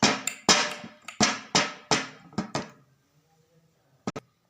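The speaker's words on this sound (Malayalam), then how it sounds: "എയർ ബബിൾസോ അങ്ങനെ എന്തെങ്കിലും ഉണ്ടെന്നുണ്ടെങ്കിൽ നമ്മൾ ജസ്റ്റ് ഒന്ന് ഇത് കൊട്ടി കൊടുക്കാം" A cake tin filled with zebra cake batter is rapped against a counter about nine times in quick succession, each a sharp close knock, then a brief pause and two final taps.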